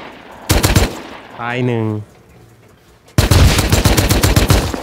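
Gunfire in the Rust video game inside a house, a short burst of rapid shots, then a voice, then a long loud stream of fast automatic fire up close.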